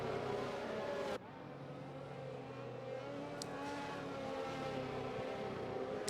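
Formula 1 race cars in the racing game F1 2021 at the Belgian Grand Prix, accelerating as the safety car pulls in. A steady, buzzing engine drone rises in pitch, with a sudden drop in level early on and no talking.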